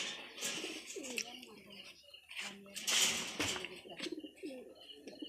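Domestic pigeons coo repeatedly in soft, rounded calls, close by. A person talks intermittently over the birds.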